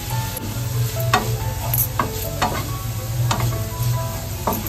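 Chopped onion with ginger-garlic paste sizzles in a pan for pav bhaji, with a continuous frying hiss and regular scraping stirs of a spoon at roughly one-second intervals, close and fairly loud.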